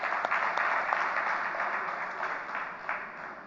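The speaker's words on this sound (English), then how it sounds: "That needs a clap, gentlemen." Audience applause at an INFOCOM talk honouring a gynaecologist and IVF specialist, a steady dense wash of many hands clapping at moderate distance, fading slightly toward the end, with no talking.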